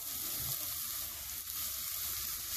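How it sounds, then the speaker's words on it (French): Garlic, onions and carrots sweating in a pan give a steady, close sizzle that stays even and unbroken throughout, with no talking. "l'ail, les oignons et on fait suer à peu près pendant 1 minute ou 2"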